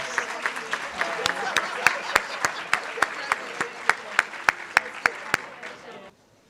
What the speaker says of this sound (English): Please join me in a round of applause for these extraordinary educators.